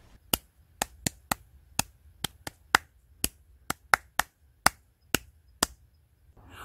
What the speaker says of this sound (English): Now let's clap it together.